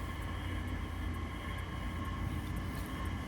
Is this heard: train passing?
yes